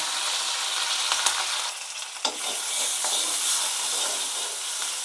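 Cumin, fenugreek seeds and curry leaves crackle and sizzle loudly and continuously in hot oil for an eggplant kothsu, with a sharp pop near the middle and faint stirring, and no one speaking.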